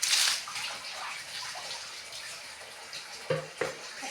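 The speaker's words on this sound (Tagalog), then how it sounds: "Sorry kung may naririnig kayo ng agos ng tubig" Running water flowing steadily in a home bathroom being cleaned, a continuous hissing wash that is strongest at the start, then settles into a soft background flow with a couple of brief splashes near the end.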